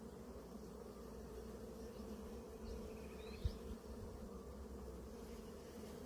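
Honey bees swarm-buzz steadily at an opened beehive while frames are inspected, a dense continuous drone close by with one soft knock midway, no voices.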